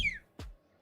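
A short mouth whistle sliding quickly downward in pitch, followed by a brief soft thump, close and alone.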